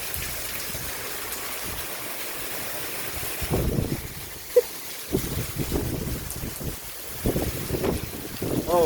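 Severe thunderstorm outdoors in Maricopa: steady roaring wind with gusting bursts of rain spray and water striking nearby, loud and close, with a person exclaiming in between.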